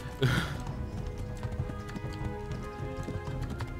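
A horse gallops in the medieval video game Kingdom Come: Deliverance, its hooves clip-clopping in a fast, steady rhythm close by, with a short whinny at the start and no talk.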